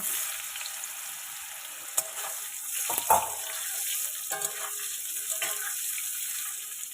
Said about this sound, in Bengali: ঝিঙেগুলো হালকা ভেজে নেব